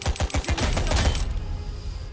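Rapid gunfire in the game Classified: France '44 sounds as a loud burst of about a dozen quick shots in a fast rhythm, cutting off abruptly and leaving a fading tail.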